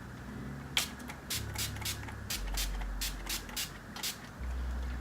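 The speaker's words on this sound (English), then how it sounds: "NYX matte finishing spray. I like to spray it with that." Several quick hissing bursts of NYX matte finishing setting spray onto a face, close by, puffed in an irregular series of about eight short spritzes over a quiet background.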